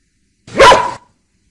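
A single short dog bark rings out loud and close, alone against silence in a children's English lesson.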